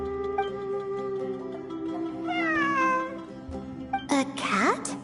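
A cat meows in the video game Genshin Impact, several drawn-out, wavering cries close by, ending in a sharp, strained yowl over a soft musical backdrop.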